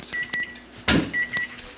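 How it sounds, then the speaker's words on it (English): Repeated short electronic beeps from a kitchen timer going off while salmon cooks, a few evenly spaced chirps with a soft clatter in between, fairly close and with no talking over them. "Oh, there's our timer."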